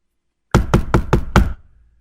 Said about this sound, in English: his dad had already went to the door and was beginning to knock